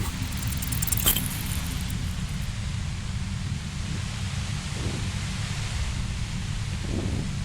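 Overwhelming white noise near a compressor in the video game Disco Elysium, a dense, steady hiss with a low rumble underneath, a brief bright burst near the start, no speech.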